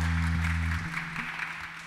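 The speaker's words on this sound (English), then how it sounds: "Can I give Jesus a round of applause for their lives?" Church congregation applauding during a Sunday service, a soft steady patter of clapping spread across the room, fairly distant, with a low sustained organ or keyboard tone underneath that drops away partway through.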